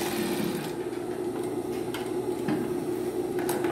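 A sewing machine runs steadily, stitching back and forth to fasten a ring onto a cotton dish towel, its continuous motor hum close and alone with no voices.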